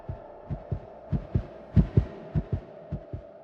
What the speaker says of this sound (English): My heart beat against my ribcage